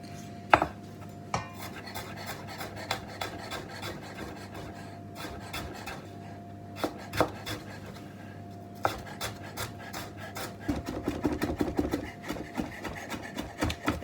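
Fresh ginger chunks are grated and chopped on a hard surface, giving irregular rasping scrapes and sharp knife taps at close range, growing busier toward the end.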